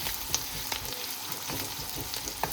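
Onions frying in a pan over a low gas flame, a steady close sizzle with a few faint clinks of stirring, no voices.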